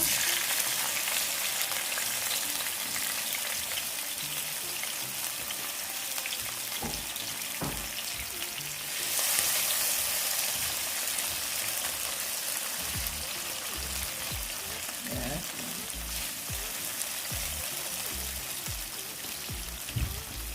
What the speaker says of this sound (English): just enough to saute the seasoning and stuff. Right, in with our seasonings now.